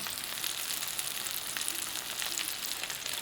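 Meatballs frying in a pan give a steady, faint, crackling sizzle that runs evenly throughout, with no talking.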